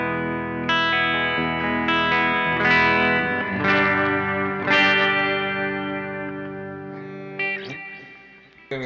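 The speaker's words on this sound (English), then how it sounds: "Clean sounds good." An electric guitar through a cheap backup amplifier rings out in sustained chords and picked notes, loud and close with a shimmering, effected tone, each chord decaying before the next.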